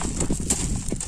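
Horse hooves clip-clop in an uneven series of knocks, fairly close and loud, with no voices over them.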